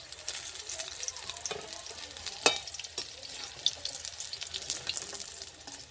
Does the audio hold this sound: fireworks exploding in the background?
no